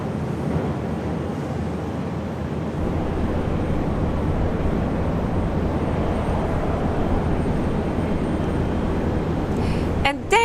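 A plane taking off from a runway at Brisbane International Airport gives a broad, steady engine roar that swells slightly and holds loud throughout, heard from a distance outdoors.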